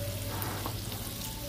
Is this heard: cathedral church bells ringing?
no